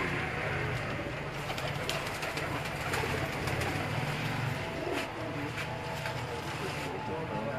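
Pigeons coo softly in the background amid outdoor ambience and a low rumble, with people talking over them.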